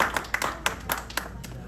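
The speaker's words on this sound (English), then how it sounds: "Let's have a great round of applause for these young guys who came here." Scattered clapping from an audience at a Chanukah party in Queens for a boys choir: a handful of sharp, separate claps over a couple of seconds, with some background noise.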